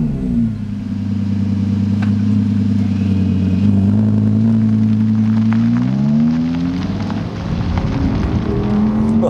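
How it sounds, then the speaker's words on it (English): An Audi R8 V10 Performance Quattro, last of the model line, finished in Tango Red, starts up in performance mode: a loud, close engine with strong low harmonics that idles steadily, then rises and falls briefly as revs climb. "Let's pop the car into performance mode and start the engine up and go for a drive."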